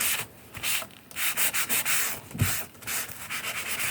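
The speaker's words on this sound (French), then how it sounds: "je suis en train de passer le chiffon pour enlever la colle et je sais que ça fait beaucoup de bruit" A cloth is rubbed briskly across a paper craft tag to remove glue, giving close, rhythmic rasping strokes in short repeated bursts.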